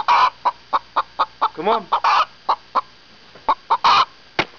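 A hen clucking in a coop, a close series of short sharp clucks with a longer squawking cry in the middle and a brief human voice.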